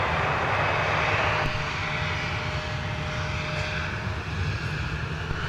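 Delta airliner jet engines at Minneapolis airport in winter, a steady loud roar with a broad rushing hiss that eases slightly partway through, no voices heard.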